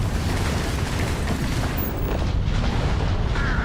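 Auto turrets in the game Starfield fire in a dense, continuous barrage of booming, rumbling blasts, loud and unbroken throughout with no talking over it.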